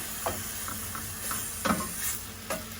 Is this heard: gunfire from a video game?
no